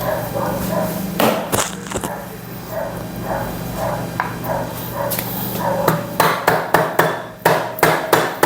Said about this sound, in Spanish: Damos un golpecito aquí y ya entró.